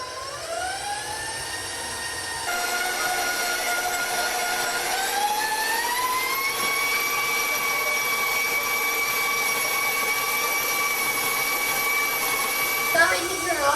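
A stand mixer kneads a wet pretzel dough, its motor whining steadily and stepping up in pitch as it is turned to medium speed, then holding a loud continuous hum with a clunk at the end.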